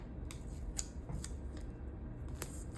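Scissors snip repeatedly at a cut-out planner sticker, several sharp close cuts at an uneven pace over a low steady background, with no talking.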